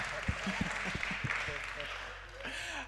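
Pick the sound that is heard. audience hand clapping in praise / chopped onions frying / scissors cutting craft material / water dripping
audience hand clapping in praise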